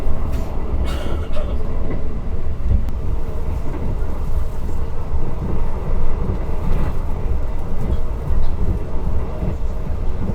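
Steady low rumble of the Direct Train cabin from Semarang to Jakarta Gambir, with rhythmic clacks and rattles over the constant roar, heard from inside.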